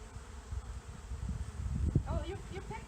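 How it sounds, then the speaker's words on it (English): A swarm of bees in Petaluma, California, on Earth Day gives off a dense, continuous low buzzing close by, with a voice briefly rising over it near the end. "can you hear that, everyone? The bees are excited."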